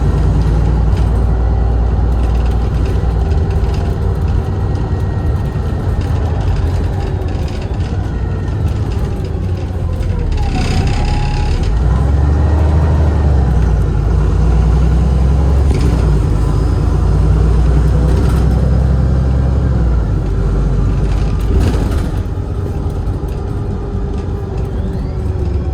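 A Wright Pulsar bus drives steadily through narrow town lanes, a continuous low engine drone with road rumble and faint rattles throughout, loud and close from inside the vehicle.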